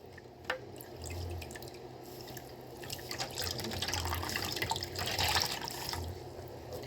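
Water drips and trickles steadily from a tap into a sink while acrylic yarn is carefully rinsed out, with soft sloshing and small splashes at close range.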